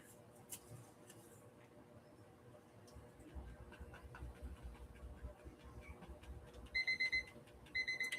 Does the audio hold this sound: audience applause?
no